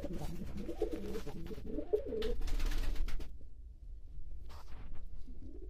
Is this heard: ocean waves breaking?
no